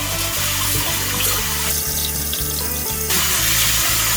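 Tap water runs steadily in a kitchen sink as seafood and ingredients are washed while preparing Thai seafood rad na, a continuous close rushing flow with no voices.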